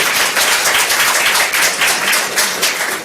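Audience at a city council meeting bursts into loud, dense applause, many hands clapping steadily and close for the whole stretch with no voices.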